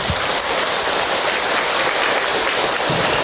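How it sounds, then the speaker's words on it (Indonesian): An audience at an Islamic lecture by an ustadz bursts into sustained applause, a dense, loud, even roar of clapping hands lasting throughout without a break. "Tepuk tangan untuk Ahilman, Ibu"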